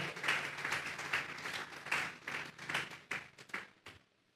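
A church congregation claps in an offering of applause to God, a steady run of hand claps with quieter tapping that thins and fades out toward the end.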